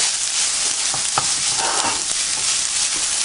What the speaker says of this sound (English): Toss all your Brussels sprouts so it gets coated with that Dijon mustard.